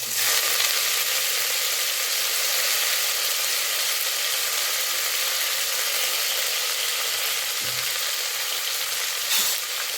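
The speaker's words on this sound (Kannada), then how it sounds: "ಒಂದೊಂದು ಸತಿ ಕೊತ್ತಂಬರಿ ಸೊಪ್ಪನ್ನ ಎಣ್ಣೆಗೆ ಹಾಕ್ಬಿಡ್ತೀನಿ" Coriander leaves crackle and sizzle in hot oil in a continuous, even frying hiss, with faint clinks now and then.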